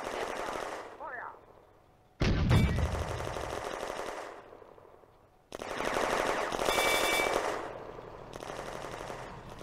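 Machine gun bursts ring out in a WWII Eastern Front tank combat game set in June 1941, loud sustained automatic fire in several long stretches, broken by a short gap, with a sharp blast near the start.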